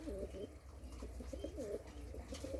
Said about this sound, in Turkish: Bir de ee, beyaz oyun güvercinlerim var.